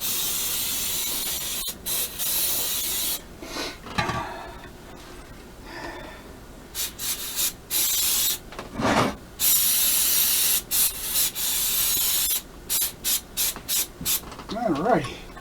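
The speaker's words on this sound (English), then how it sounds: "Do a spray down." Aerosol spray hitting a V8 intake manifold being ported for an S10 swap, repeated hissing bursts of varying length with short pauses between them and a few brief voice sounds in between.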